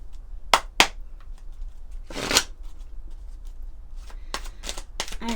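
Oracle cards are shuffled by hand, close up: quick riffling flutters and sharp card snaps in several separate bursts, with quiet pauses between them and no talking.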